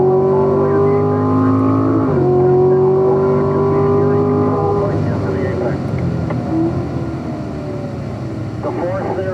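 Loud, close engine of a Corvette Stingray on a track as it powers out of a corner, the pitch rising, shifting, then settling into a rougher note, with someone talking over it.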